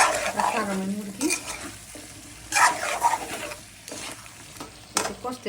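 Chicken and potatoes fry in a spice masala, sizzling steadily while a spatula scrapes and stirs the pan in irregular bursts, close and moderately loud.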